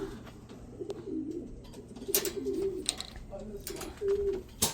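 Pigeons in a racing-pigeon loft give soft, intermittent coos over a low, quiet background, with a few faint clicks and rustles nearby.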